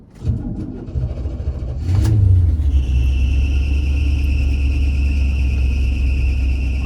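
A 1984 Chevrolet Suburban engine starts up and settles into a loud, steady low rumble with a whining belt tone while driving on the road.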